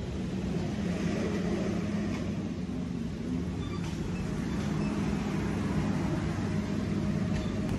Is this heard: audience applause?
no